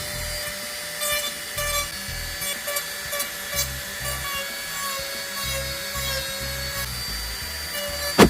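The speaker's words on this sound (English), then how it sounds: "I'm probably just gonna hit them with a sander now." A power sander works over EVA foam costume horns at close range, giving a steady buzzing drone with rhythmic rubbing pulses as it is pressed and moved, ending in a sharp knock.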